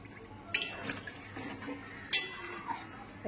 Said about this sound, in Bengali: এবার আমি এখানে একটু জল দিয়ে দেবো, 1 মগের মতো জল দিয়ে দিয়েছি।